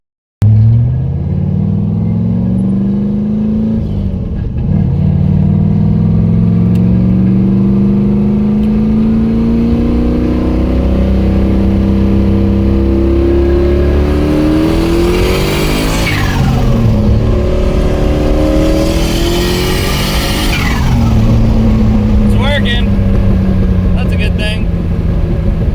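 A car with a CD009 gearbox converted from six to five speeds and a noisy differential drives on the road, its loud engine droning and rising through the gears with steady driveline roar; a person talks over it.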